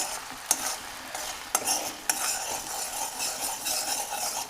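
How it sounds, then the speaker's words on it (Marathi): A spoon stirs a candle-wax mixture as it heats in a pan, giving soft scraping strokes and a few sharp clinks against the metal over a faint steady sizzle, with no voices. "आता हे गरम होऊस तर आहे ना आपल्याला व्यवस्थित चमच्याने हलवून घ्यायचंय"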